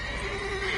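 A horse in The Witcher 3 gives a short, loud, close whinny with a wavering pitch, alone and without speech.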